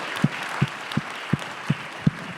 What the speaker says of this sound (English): I want to give a big round of applause to our panelists for this great discussion